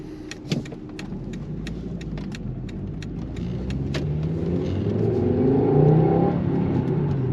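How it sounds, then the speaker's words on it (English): A 25-year-old Volvo 850 GLT with an inline five-cylinder engine accelerates, its engine note building steadily from a low drone to a louder, raw growl with road rumble underneath. "As you take it up, you get this raw engine noise."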